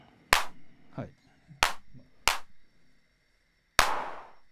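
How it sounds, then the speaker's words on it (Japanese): Four sharp, snappy handclap hits from a drum machine module at its default setting, spaced irregularly and close, the last trailing off in a longer noisy decay; a voice briefly speaks between hits. "で今度クラップですね。"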